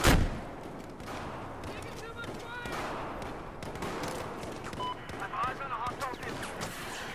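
Gunfire bursts out loud at the start, then scattered shots and crackling follow under a busy game soundscape, with voices talking over it.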